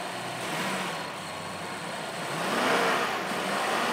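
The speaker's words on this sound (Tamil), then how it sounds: "இப்போ இந்த இன்ஜினை ஸ்டார்ட் பண்ணி ரிவ் பண்ணி பார்க்கலாம் எப்படி இருக்குது அப்படின்னு நல்லா ரவ் பண்ணி பார்ப்போம்" Rolls Royce Phantom engine running in a steady, subdued hum with a gentle rise in revs near the end, muffled and smooth rather than loud, with no talking.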